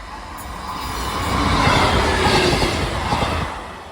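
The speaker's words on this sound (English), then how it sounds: "Oh no, it's red. Train's coming." A train rumbles past at a railway level crossing near a walking trail, a loud rushing roar of wheels and carriages that swells and fades over a few seconds.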